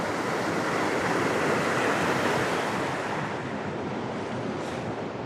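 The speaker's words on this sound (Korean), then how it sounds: "우렁찬 소리를 뽐내면서 흐르는 계곡의 물줄기" Geumdang valley mountain stream in a Pyeongchang forest rushes steadily, a dense, loud and continuous roar of flowing water with no talking.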